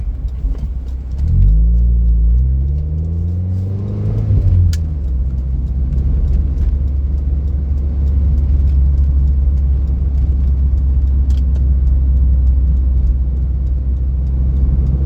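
A Mazda MX-5 Mk3 sports car, pre-facelift, drives hard around a corner. Its engine rumbles loud and close throughout, with a rising rev in the first seconds, then a steady drone.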